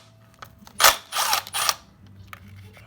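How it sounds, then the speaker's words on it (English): A 10mm bolt being loosened on a Toyota Celica 2ZZ-GE engine gives a few short, close mechanical bursts of ratchet clicking with quiet pauses between them. "Now the next step is to take these 2 10mm bolts off."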